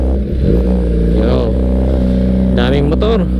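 Several motorcycles rev at a track day, their engine notes rising and falling in overlapping bursts, loud and close, with voices around them.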